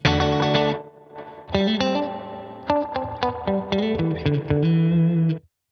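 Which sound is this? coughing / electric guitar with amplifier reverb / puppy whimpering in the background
electric guitar with amplifier reverb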